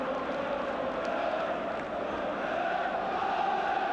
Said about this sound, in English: the crowd singing the name of Norman Bell, the Wolves substitute, who's brought them back to life